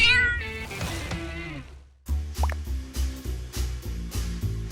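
A cat meows in a long, high, wavering cry, then a pause, and a bouncy rhythmic backing with plopping drips repeats steadily afterward.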